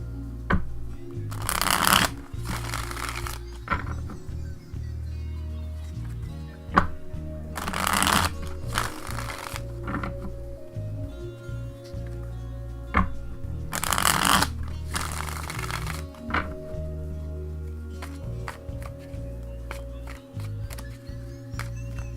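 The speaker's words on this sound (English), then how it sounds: "Give me a moment to shuffle the cards and deal them out." Tarot cards are shuffled in repeated bursts of crisp riffling and flicking, close and clear, with quiet pauses between the shuffles.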